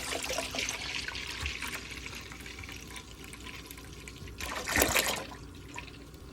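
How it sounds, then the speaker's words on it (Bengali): Milk poured into a cooking pot to be heated for making winter milk pitha, a steady liquid trickle and splash with a louder gush near the end, close by and with no talking. "প্রথমে দুধ পাতিলে ঢেলে গরম করে নেব"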